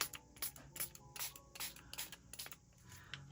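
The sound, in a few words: spraying ink from a spray bottle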